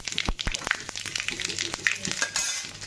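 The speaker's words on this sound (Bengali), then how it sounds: "এই শুকনো লঙ্কা ফোড়ন দিয়ে দিলাম, এই 5 ফোড়ন তেজপাতা দিয়ে দিলাম" Dried red chili, five-spice and bay leaf tempering in hot oil, with light sizzling under clinks and scrapes of a utensil against the pan, close and moderately loud.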